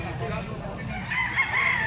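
A green-legged rooster brought down from the mountains for sale at a Cebu poultry market crows once, a rising strained call that swells near the end over steady market background noise.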